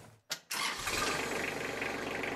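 A diesel tractor engine cranks briefly, pauses, then catches and settles into a loud, steady running rumble, heard up close with no talking.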